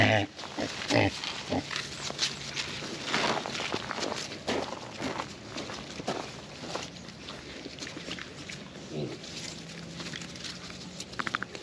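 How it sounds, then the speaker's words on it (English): Pigs feeding on a homestead in early winter grunt and munch close by with wet chewing and snuffling, scattered trotter steps and knocks, and a voice talking intermittently over them. "Well, the pigs are definitely eating much better."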